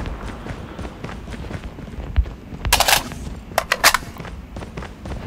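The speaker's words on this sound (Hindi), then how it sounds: "थोड़ा फायरिंग कर रहा है पर वो मुझ पर नहीं कर रहा" Gunfire in the first-person shooter Call of Duty, a scattered series of distant and nearby shots and bursts amid footsteps and ambient game noise.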